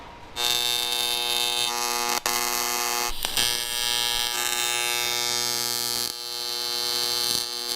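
Steady electric buzz of welding as metal bars are joined onto a custom grill held in a billet-and-clamp jig, a continuous harmonic drone with a couple of brief breaks, close and loud.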